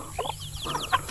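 A farm chicken clucking in short, quick bursts, fairly close but not loud, with a few sharper calls between them.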